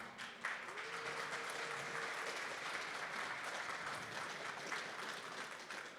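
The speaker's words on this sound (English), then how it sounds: "So round of applause for Natalia Ameline" Applause from a conference audience at a talk on decentralized layer 2 blockchain networks, steady and fairly distant throughout, with no voices over it.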